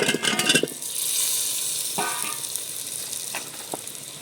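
Potatoes drop into a pan of sizzling spiced masala, starting with several quick clattering knocks, then settling into a steady hot sizzle with a few scraping stirs and light pan taps.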